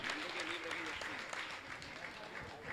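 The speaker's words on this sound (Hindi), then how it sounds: "जोरदार इनका ताली बजाकर सम्मान करें और अपनी शंका रखें।" An audience at a Hindi religious question-and-answer session with a Jain monk in Mithapur, Patna, breaks into a steady burst of clapping, dense and sustained throughout, with a faint tone beneath.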